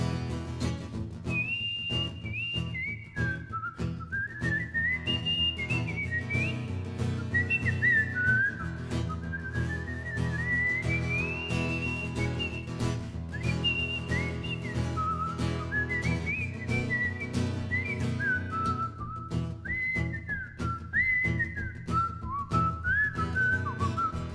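An audience whistles a wandering melody together at a concert, a steady bright tone that runs over a continuous low musical backing throughout, fairly loud and sustained.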